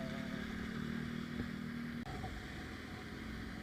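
A motorcycle engine idles steadily after a spark plug fault, a low, even drone held throughout with a faint tonal hum and a brief click near the middle, fairly quiet and without voices.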